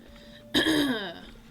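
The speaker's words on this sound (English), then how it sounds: "Sorry, I keep clearing my throat" A single throat clearing, close and fairly loud, following a short quiet stretch, with a rough rasp that trails off.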